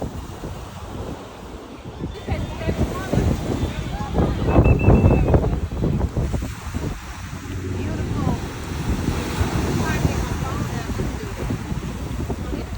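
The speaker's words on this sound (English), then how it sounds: "This beach and this day is beautiful." Ocean waves wash onto a beach in Puerto Rico in a steady, loud roar with heavy wind buffeting the microphone, while voices talk faintly underneath.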